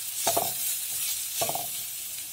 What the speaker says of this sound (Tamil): தேங்காய் பூ போட்டதுக்கப்புறமா ஸ்டவ் ஆஃப் பண்ணிடுங்க. நல்லா மிக்ஸ் பண்ணிக்கோங்க நெய்யில்.